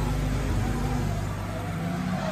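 Nissan Kicks EV car driving along, a steady low road and tire hum with a faint whine, smooth and unbroken, heard from close inside with no talking.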